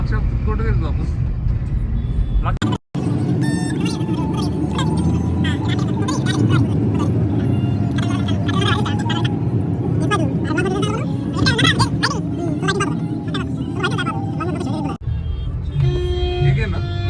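Road traffic in slow-moving congestion heard from inside a moving car, a continuous engine and tyre rumble with passing vehicles and occasional horn toots, overlaid by people talking nearby throughout.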